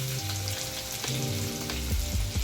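Finely chopped onion frying in hot oil with cumin and fried small chillies, cooked for a Maharashtrian kulith pithla. The sizzle is loud and close, with low tonal hum and a few soft clinks over it.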